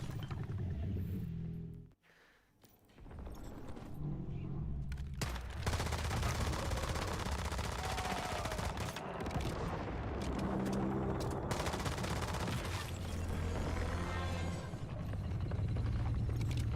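Sustained LMG and SMG gunfire in the Once Human shooter, long continuous automatic bursts, loud and dense, broken by a brief pause near two seconds, with explosions mixed into the near-constant barrage.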